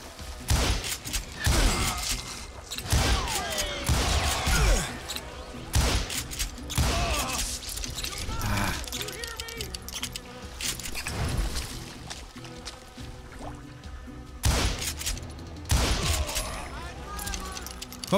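Gunshots in the Western video game Call of Juarez Gunslinger ring out as sharp bursts and quick volleys, loud and close, while someone talks over much of the action.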